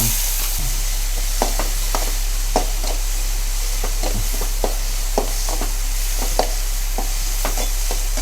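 Tomatoes fry in a pan of egg sukka, a steady soft sizzle under regular sharp taps and scrapes of a spatula stirring the mixture, close and fairly even throughout.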